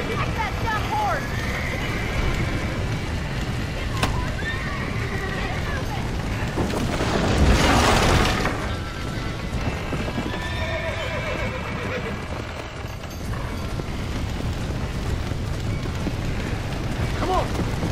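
Horses whinny repeatedly in Red Dead Redemption over a busy soundscape of hoofbeats and a rumbling burst midway, with voices talking in the background.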